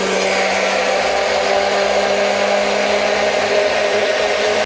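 An electric mixer whirs steadily as it beats eggs, milk and sugar for old-style biscuit dough, a constant loud motor drone close by with no pauses.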